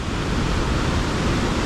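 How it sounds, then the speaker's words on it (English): Ocean waves wash over rocks on an Australian coastline, a loud, continuous broadband roar of surf and rushing water with a wind-like hiss and no voices. "the ocean retreats, and all that water that it pushed up onto the rocks then wants to make its way back into the ocean"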